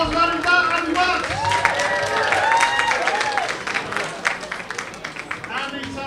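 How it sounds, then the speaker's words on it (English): Audience applause and cheering at a stand-up comedy gong show, welcoming a comedian to the stage; a steady wash of clapping fills the whole stretch, with raised voices and whoops on top. "Big round of applause for Andy Barnes!"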